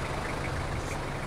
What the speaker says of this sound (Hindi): इंजन की साउंड आप ऑलरेडी सुन सकते हैं